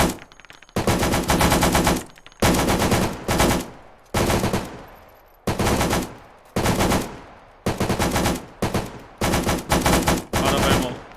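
Automatic rifle fire in the video game Arma 3, loud close bursts of rapid shots repeating in about a dozen volleys with short pauses between, no talking.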